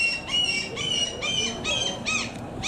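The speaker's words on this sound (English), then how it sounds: "Shut up, seagull!" A seagull in Bergen squawks five or six times in quick, evenly spaced harsh calls, close and fairly loud over faint background noise.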